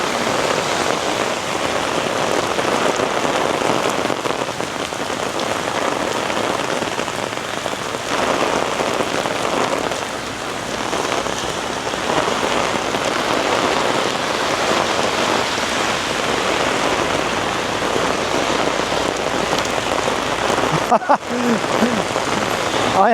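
Heavy rain pours steadily and close around someone walking downtown in Toronto, a dense continuous hiss of drops striking surfaces with gusting wind, lasting the whole stretch with a brief rustling break near the end.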